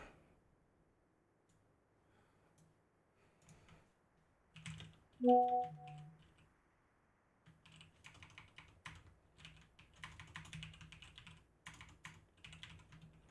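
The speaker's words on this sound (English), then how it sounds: "my typing is ridiculous." Typing on a computer keyboard during a Lord of the Rings: Rise to War strategy game session, a quiet patter of key clicks early on, then denser, louder bursts of keystrokes in the second half.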